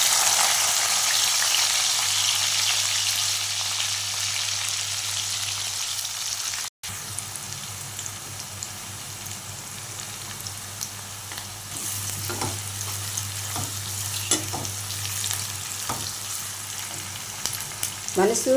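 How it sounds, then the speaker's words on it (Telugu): Onions go into hot oil for a chicken curry and fry with a loud, continuous close-up sizzle, with bursts of stirring and spattering in the later part. "నూనె కాగనించి ఎర్రగడ్డలు వేద్దాం. ఈ నూనె అయితే కాగింది."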